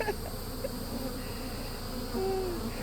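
Honey bees hum in a continuous, busy drone, fairly loud and close, with a few higher whining tones drifting through near the end.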